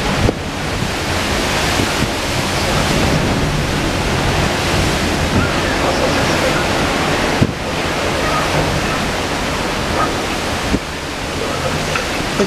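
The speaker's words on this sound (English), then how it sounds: "rough day at sea, but I think it's beautiful and it sounds beautiful" Rough sea waves surge in a continuous roar from a cruise ship balcony, with strong wind buffeting the microphone throughout.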